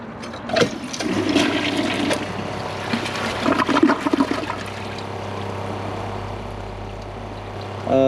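A 2015 Kohler Cimarron toilet flushes with a sudden loud rush of water, swirling and gurgling down the bowl before settling into a steady refill trickle, close and clear with no talking.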